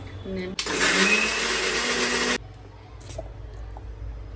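A mixer grinder grinding dhokla batter made with sour buttermilk and two green chilies roars loudly and close for about two seconds and then cuts off abruptly, leaving quiet room sound.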